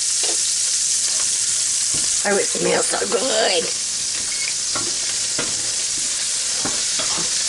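Diced onions and minced garlic fry in hot grease, giving a loud, steady close-up sizzle with occasional stirring scrapes while someone speaks briefly over it.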